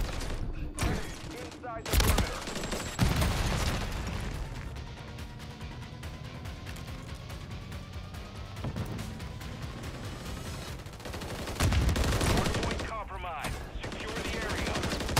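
Call of Duty gunfire rattles in dense bursts of rapid shots, sharp loud cracks at the start and around the twelve-second mark with continuous firing and game noise in between, close and intense.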